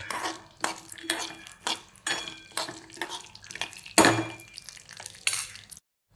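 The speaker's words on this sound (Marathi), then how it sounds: "शेंगदाणे भाजून घेते मी." Peanuts roast in an oiled pan, stirred with a metal utensil that gives a series of close, regular scraping clinks against the pan at about one per second before stopping abruptly.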